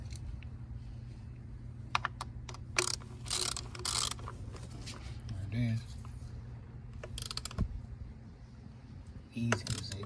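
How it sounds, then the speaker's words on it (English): A ratchet snugging down the bolt on an ignition coil of a 2014 Ford Focus, giving short bursts of rapid clicking separated by pauses, close up, with some handling noise between the bursts. "now you start snugging down the bolt"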